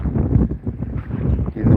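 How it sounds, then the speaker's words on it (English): Gusty wind buffets a microphone on a kayak during a bass-fishing outing on open water. The rumble is low and continuous, surging and easing in waves with no talk over it. "It's windy"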